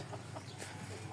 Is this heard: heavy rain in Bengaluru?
no